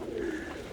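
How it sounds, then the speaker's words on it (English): Tippler pigeons coo softly inside a dry loft while rain falls outside, a short, close, low coo without talk. "Birds are cooing."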